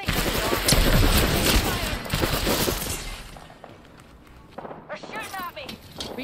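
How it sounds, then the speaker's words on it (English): Gunfire rattles through an Apex Legends match, dense bursts loud and close for the first few seconds, then easing off before sharper shots return near the end. "They're shooting at me."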